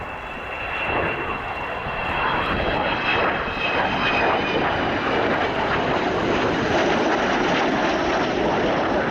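An Avro Vulcan XH558 jet bomber roars through a flying display at RIAT 2015, a loud sustained engine rush that swells in the first seconds and then holds strong and broad, with no talk over it.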